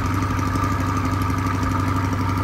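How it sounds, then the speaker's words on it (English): A stock-exhaust Chevrolet Corvette C8 idles steadily and close by, a continuous low rumble with a faint clattering texture and no voices. "really good exhaust for a stock car, in my opinion. I think it sounds fantastic."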